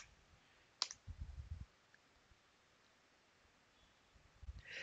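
Computer keys and mouse clicks while searching for the Eclipse Java IDE: a sharp click, a short burst of soft key taps, then quiet before a few more taps, all close and faint.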